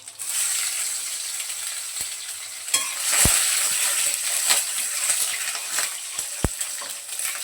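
Mustard seeds and cumin sizzle and crackle in hot oil in a pan, a steady frying hiss with a few sharp pops, close and fairly loud, with no voices.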